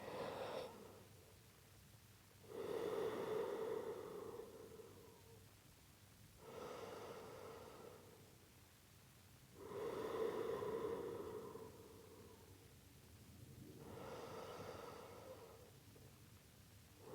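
Long, slow yoga breaths, four soft, drawn-out airy inhales and exhales spaced evenly apart, close and quiet with no talk.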